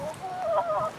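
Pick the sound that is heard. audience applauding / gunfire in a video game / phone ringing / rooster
rooster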